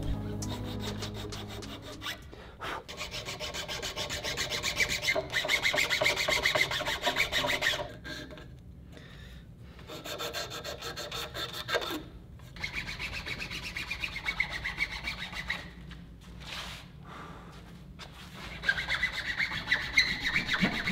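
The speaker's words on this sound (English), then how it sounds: "By using a chainsaw file, I'll cut a 45 degree angle into the sides of the bow limb." A chainsaw file rasps grooves into the side of a wooden bow limb, close and moderately loud, in repeated back-and-forth strokes with short pauses between bursts.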